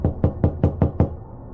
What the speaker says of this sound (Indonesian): kembali panggilan itu dan ketukan itu aku dengar